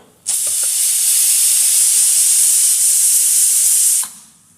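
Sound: pressure cooker whistle releasing steam while cooking clams

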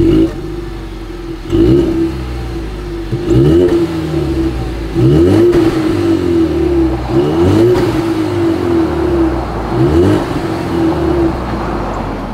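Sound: 2020 Ford Mustang EcoBoost engine start and exhaust

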